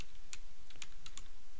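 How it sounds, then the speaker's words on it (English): Quick, light keystrokes tap on a computer keyboard, a short irregular burst of several clicks over a faint steady background hiss. "I'm just typing the first thing comes to my head"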